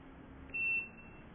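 A SKY2000 gas detector gives a single short electronic beep, a clean steady tone of about a quarter second, from a key press, over faint room hiss.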